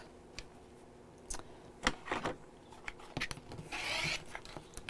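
Scissors trimming the edge of fabric while sewing a piped bag produce scattered short rasping, rubbing snips, soft to moderate and close by, with no talking.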